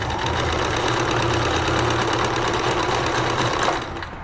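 A Necchi 525FA sewing machine runs a buttonhole stitch in one steady, loud, rapid whirring run, heard close up and alone, easing off slightly at the very end.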